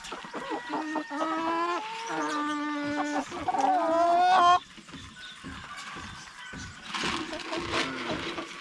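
Native chickens and roosters on a Philippine farm cluck and squawk in a close, busy run of harsh calls, loud at first, then thinning out to scattered clucks against outdoor ambience.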